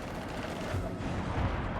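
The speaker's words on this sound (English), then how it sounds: "Shepard, I hear gunfire." Gunfire in the Mass Effect 3 video game rolls as a dense, continuous roar of distant shots and blasts, loud and steady throughout with no clear separate reports.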